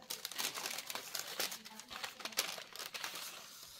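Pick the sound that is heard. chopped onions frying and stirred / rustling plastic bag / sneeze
rustling plastic bag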